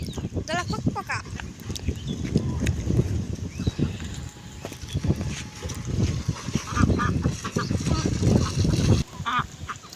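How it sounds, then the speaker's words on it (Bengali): Domestic ducks quack and honk in a rural outdoor setting, calls repeating through the ten seconds at moderate distance, mixed with faint hoof clip-clop and someone talking over much of it. "এগুলো হলো পাতি হাঁস এগুলো হাঁসা হাঁসের নাম হলো পাতি হাঁস"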